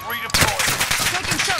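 Gunfire in a first-person shooter video game: a loud, close volley of rapid shots bursts in sharply and keeps rattling in a dense, continuous string of reports.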